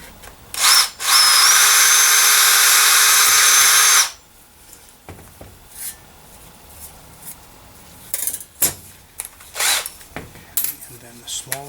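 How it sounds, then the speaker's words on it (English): A power drill bores holes into a Torqueflite 727 transmission part, a loud high whine lasting about three seconds, then a series of short clanks and handling knocks of metal parts. "So I just basically have to drill 2 holes in here."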